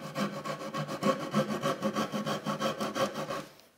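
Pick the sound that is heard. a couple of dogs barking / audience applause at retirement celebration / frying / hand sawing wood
hand sawing wood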